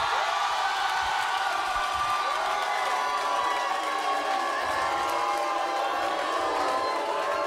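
A French studio audience cheers, whoops and hollers into an applause meter during a live music contest, a dense sustained roar of voices filling the room with no letup.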